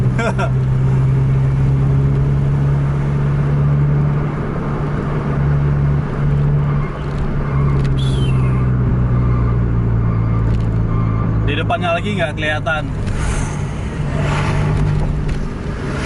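Several tour buses run close together on a winding road in Aceh, overtaking one another. A loud, steady diesel engine rumble drones throughout, with people talking over it.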